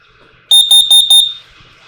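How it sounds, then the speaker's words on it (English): An RV's carbon monoxide and LP detector, in a 2022 Forest River Salem Cruise Lite travel trailer, sounds four sharp, piercing electronic beeps in quick succession during a test, very loud and close, then stops. "Down below here is going to be our carbon monoxide and LP detector."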